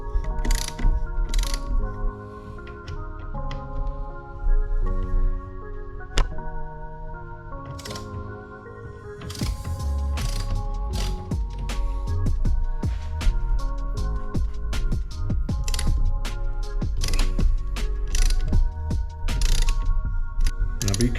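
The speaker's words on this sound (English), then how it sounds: "get your 1/4 Allen key and go ahead and loosen up the clamp very carefully" A 1/4 Allen key loosens the handlebar riser clamp on a Harley-Davidson Low Rider ST during a Thrashin Supply 6.5-inch riser install, clicking and ratcheting in close, steady bursts of metallic turns.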